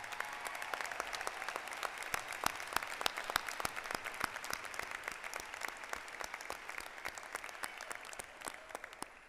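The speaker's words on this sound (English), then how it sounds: "let's give them one more round of applause" Graduation ceremony crowd applauding graduates at a university summer commencement; sharp individual claps stand out over a steady bed of clapping that runs throughout and eases slightly toward the end.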